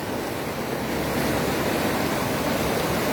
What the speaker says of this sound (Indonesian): bagaimana arus di sini cukup kencang